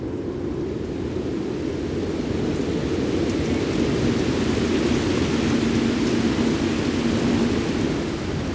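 Heavy monsoon rain pours steadily in Australia's tropical far north, a dense continuous hiss with low thunder rumbling underneath throughout, loud and close with no voices.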